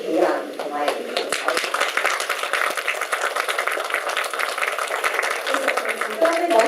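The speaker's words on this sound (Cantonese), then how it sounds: "咁不如大家俾自己一個掌聲，同埋你哋嘅屋企人同埋朋友。" Applause at a medical talk on inflammatory bowel disease, a crowd clapping for themselves and their families, continuous and fairly close, with speech heard over part of it.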